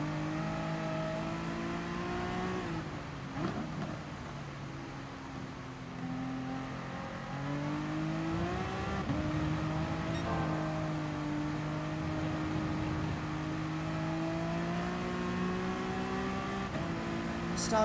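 A race car engine in the video game GT Sport on a wet track, revving loud and continuous with repeated rising and falling pitch as the driver shifts and slides, no talk over it.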